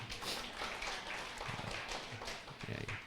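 A church congregation claps together during a sermon, a dense wash of hand claps filling the room at moderate distance, fairly steady and sustained, with faint voices mixed in.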